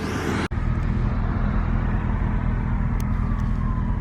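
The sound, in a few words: BMW E34 540i engine idling after motor mount repair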